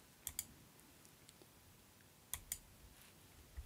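A computer mouse clicks during Revit modeling work: a few quiet, crisp double clicks spaced apart against faint room hiss, with no talking.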